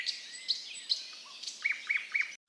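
A small brown sparrow chirps in a quick series of high, bright tweets, close and clear, ending in three evenly spaced repeated calls before a sudden cutoff.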